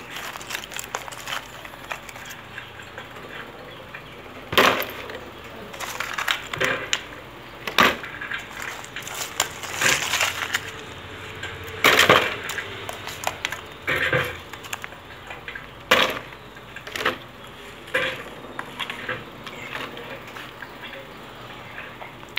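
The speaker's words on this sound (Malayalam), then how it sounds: "ഈ ഐസ് ക്യൂബ് ഇതിലേക്ക് ഇടുന്നത്" Ice cubes being dropped into a water bottle to fill it about halfway, giving a run of irregular hard clinks and knocks, some sharp and close, with quieter rattling between them and no voices.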